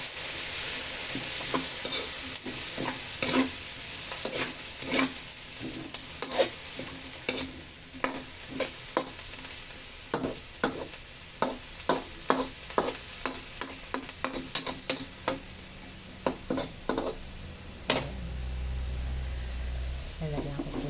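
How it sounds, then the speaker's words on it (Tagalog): Pancit bihon rice noodles stir-fry in a pan as two tablespoons of soy sauce go in, with a dense sizzle under repeated scraping strokes of a utensil in a steady rhythm that ends in a brief pause. "At ilalagay ko na po ang ating 2 tablespoon na soy sauce."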